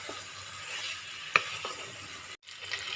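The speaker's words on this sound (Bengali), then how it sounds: "এবার সবুজ মটরটা আমি দিয়ে দিলাম। এবার আমাকে একটু কষাতে হবে মশলার সঙ্গে এগুলো।" Boiled green peas being stirred with spices in a pan: a soft, low sizzle with light spatula scrapes and a sharp clink partway through, then a brief drop to near silence.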